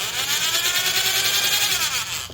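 A cheap Harbor Freight half-inch corded drill runs continuously with a slightly lopsided gear, giving a loud close whir with a faint rhythmic wobble throughout.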